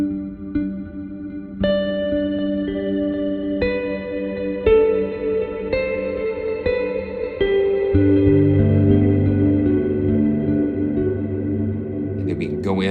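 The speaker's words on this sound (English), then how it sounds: "I'm going to take the shimmer completely off and just let the echo." A guitar played through an echo effect with the shimmer turned off, sustained chords ringing into repeating, decaying echoes across the whole stretch, loud and close with no talking.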